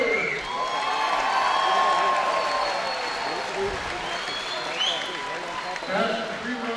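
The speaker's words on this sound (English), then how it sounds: "round of applause for these two warriors" After a three-round fight at a combat sports event, the audience applauds and cheers the two fighters, a steady crowd roar with whoops and claps while an announcer's voice carries over it.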